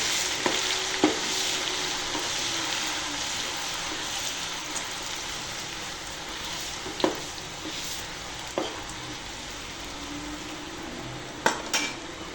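Prawn pickle mixture cooks in hot oil, a steady soft sizzle throughout with occasional clinks of a spoon stirring against the pan.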